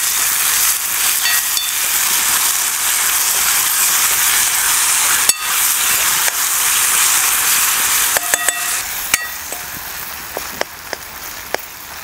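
Onion and tomato sprinkled with salt sauté loudly in a hot pan, a bright continuous sizzle with scattered clicks and taps of stirring toward the end, no talking.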